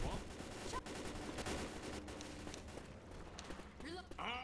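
Gunfire in Left 4 Dead 2, a busy mix of rapid overlapping shots and bursts. Players talk and shout throughout the shooting.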